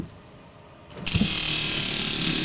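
A prize wheel spins with a rapid, steady ratchet-like clicking that starts abruptly after a quiet moment and continues loud and close to the end.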